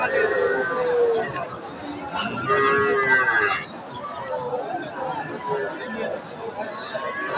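A calf, a Sahiwal crossbreed, gives a drawn-out low moo amid the steady chatter of a crowd at a calf market, with voices talking throughout.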